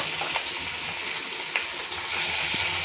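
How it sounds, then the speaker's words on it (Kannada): Chicken sizzles steadily in a pan with onions over a low flame, a loud, continuous close frying hiss with faint stirring bumps, without speech. "ಇವಾಗ ನಾನು ಚಿಕನ್ ಹಾಕ್ತಾಯಿದ್ದೀನಿ."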